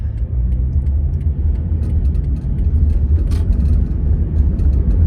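A car driving along a road during a road route drive, a continuous low engine and tyre rumble heard from inside, steady throughout with occasional faint clicks and no talking.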